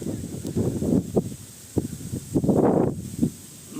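Strong gusty wind roars and buffets in uneven surges, with rustling and bursts of blowing noise close by.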